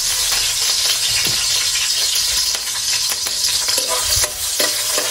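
Onion hits a hot pan and sizzles loudly and steadily, with occasional stirring clinks and scrapes against the pan, up close and without talk, while cooking a fiesta meal.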